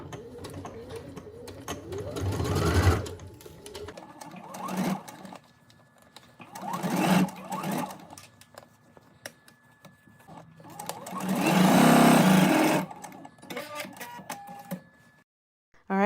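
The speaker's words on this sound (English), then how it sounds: "Now go ahead and stitch those together." A sewing machine stitches fabric pattern pieces together in several separate runs, each a fast mechanical whirring hum that starts, holds, and stops, with quiet pauses between bursts and the longest, loudest run near the end.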